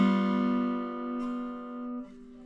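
A guitar strums one chord on only the bottom three strings, ringing out clearly and decaying over a couple of seconds, played alone and close with no speech.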